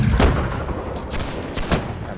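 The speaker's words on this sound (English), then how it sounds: "I'm just shooting until I figure out how to be a cannon." Musket gunfire in the video game Holdfast: several sharp, loud shots spaced across the moment, each a broadband crack with a low rumbling tail, over a steady game background.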